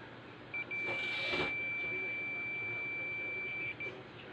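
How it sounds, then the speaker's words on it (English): A steady, high-pitched multimeter continuity beep holds for about three seconds over a faint background hiss, then cuts off, testing a fuse in a Samsung TV. "The tester is set to beep mode or continuity mode."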